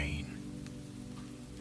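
Steady rain falls in a soft, continuous patter beneath a low, sustained tonal hum that runs the whole time.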